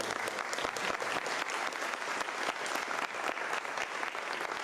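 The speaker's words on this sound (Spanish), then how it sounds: "Un fuerte aplauso, por favor." An audience applauding after a lecture on psychoanalysis, with dense sustained clapping from many hands, fairly even throughout and heard without voices.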